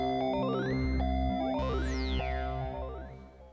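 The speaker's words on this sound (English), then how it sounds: "This is just a few different Thor oscillators that are being modulated quite a bit." Several Thor synthesizer oscillators in Reason, heavily modulated, produce stepped pitch sequences and a sweeping falling tone over a steady low drone, moderately quiet and fading toward the end.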